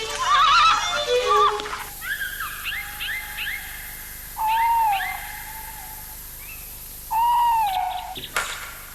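A series of eerie, wavering hoots and whistled calls, some rising and falling, repeated with pauses, fairly close and clear against a quiet background.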